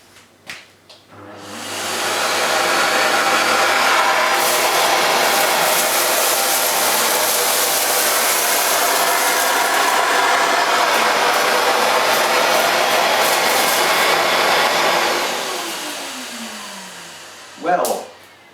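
A Hoover Silent Energy bagged vacuum cleaner fitted with a hard-floor parquet nozzle switches on and runs as a steady, loud, even whooshing roar for about fourteen seconds, then winds down, followed by a brief knock.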